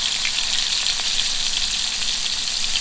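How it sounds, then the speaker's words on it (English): Cheddar-stuffed meatballs cooking in a pan of sauce, giving a steady, close, bright sizzle and bubbling with no talk over it. "we're going to simmer them in this sauce"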